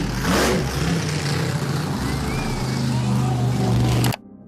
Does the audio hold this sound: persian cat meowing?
no